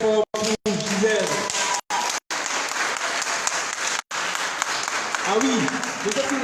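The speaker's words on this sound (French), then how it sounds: "on applaudisse très très fort pour Gisèle" Audience at a French nativity contest final clapping for a finalist, a dense, loud round of applause interrupted by brief dropouts, with voices and cheering mixed in.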